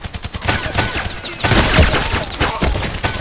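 Gunfire in the first-person shooter Contract Wars, with loud rapid shots and booming blasts layered over continuous game noise.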